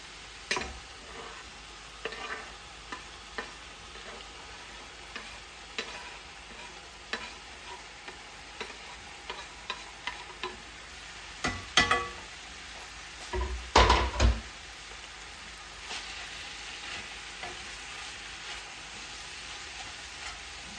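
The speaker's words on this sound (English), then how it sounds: "now I'm gonna go ahead and add in these tomatoes" Tomatoes frying with cooked-down onion in a pan for chicken coconut curry, a steady low sizzle with occasional scrapes and stirring knocks, one louder clatter of utensils near the end.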